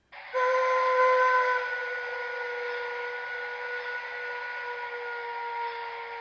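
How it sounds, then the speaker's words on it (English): An MTH Premier Shay steam locomotive model with a Proto-Sound 3 sound system blows one long, chime-like whistle. It starts strong, eases slightly after the first second and holds steady to the end, alone and close. "And the whistle is fantastic."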